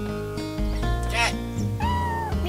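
A cat meows in the Chrono Cross video game, a few drawn-out, wavering cries set over music with a steady harmonic backing.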